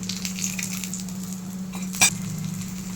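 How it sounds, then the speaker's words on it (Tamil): Raw plantain fries in oil over a low flame with a soft, steady sizzle above a constant low hum, broken by a single sharp utensil clink. "லோ ஃப்ளேமில் வச்சு நம்ம ஃப்ரை பண்ணிக்கணும் வாழைக்காய் நல்லா ஃப்ரை ஆயிடுச்சு"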